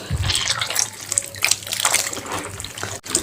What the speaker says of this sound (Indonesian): setelah keruh begini, kita buang airnya dan kita ganti lagi ya